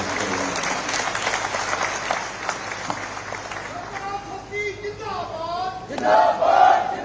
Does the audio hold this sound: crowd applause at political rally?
yes